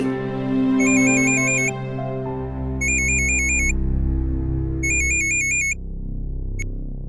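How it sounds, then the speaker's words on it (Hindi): A phone ringtone plays three repeated bursts of electronic trilling, each about a second long with short pauses, over a low steady hum. "कौन फोन कर रहा है बार बार आपको? उठा लीजिए ना।"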